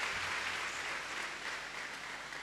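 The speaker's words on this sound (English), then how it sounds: "Shall we clap for Jesus once again?" A church congregation claps for Jesus in a steady, sustained wash of applause that stays fairly soft and even throughout, with no voices standing out.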